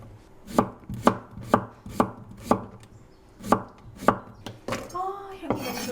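Knife slicing fresh cucumber into thick pieces on a cutting board, about nine crisp, evenly spaced chops close by, with a brief clatter at the end and no talk.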